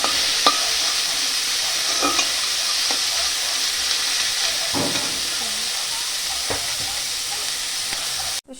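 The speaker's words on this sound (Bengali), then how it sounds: "সব সবজিগুলোই ভাজা হয়ে গেছে এবার নামিয়ে নেব" Vegetables sizzling steadily in hot oil in a pan for paneer veg dal, with a constant loud frying hiss broken by occasional close scrapes of a stirring spoon.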